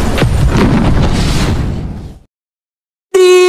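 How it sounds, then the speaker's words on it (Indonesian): A loud, rumbling anime volcanic explosion attack from Bofuri Season 2 that fades out over about two seconds, then silence before a sharp tonal sound cuts in. "Di tengah ledakan yang meluluhlantakkan tanah sekitar"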